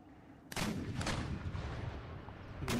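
Artillery cannons in Empire: Total War firing, with two loud booming volleys about half a second apart, then a rolling rumble and another blast at the end, heard alone without talk.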